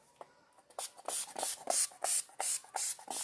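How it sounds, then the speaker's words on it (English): Short bursts of fine hissing makeup setting spray repeat in a quick rhythm, close by, each puff lasting a fraction of a second. "don't talk while you're spraying the setting spray"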